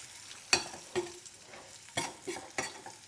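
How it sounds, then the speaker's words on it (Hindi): Cashews and pistachios roast gently in a pan over a low flame as a spoon stirs them. About five distinct scraping clacks sound against the pan at uneven intervals, over a soft, low background with no voices. "अब इसको धीमी आंच पे, मतलब लो फ्लेम पे इसको थोड़ा सा भूनना है"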